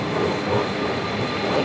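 A Santiago metro train rumbles along in a brief, steady, close roar with rail noise and no talking.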